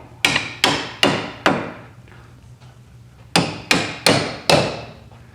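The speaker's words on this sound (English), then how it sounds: "See if I can get away with tapping these bolts out." Hammer blows knocking out bolts on a 1972 Volkswagen Super Beetle front strut: four sharp metallic strikes in quick succession, a pause, then four more, loud and close with ringing decay.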